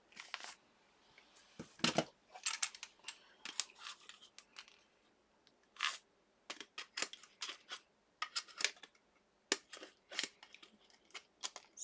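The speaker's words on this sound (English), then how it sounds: "I might need to cut my hole a little bit bigger right there" Scissors snip a hole in material, a run of small crisp cuts at an uneven pace, close but quiet, with no talking.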